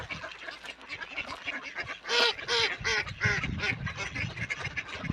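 Ducks and coots at a park pond quack and honk loudly and repeatedly, with flurries of flapping wings and splashing in between, close by and with no one speaking.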